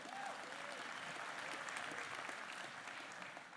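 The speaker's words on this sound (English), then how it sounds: "Everybody gives him a round of applause" A small group applauds a new team member at a presentation, a steady patter of clapping lasting a few seconds, fairly faint and distant in a room, with no talking over it.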